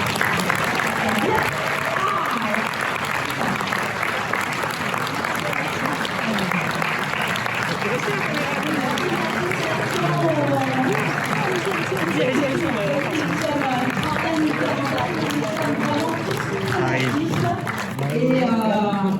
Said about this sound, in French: vous pouvez peut-être les applaudir un tout petit peu plus loin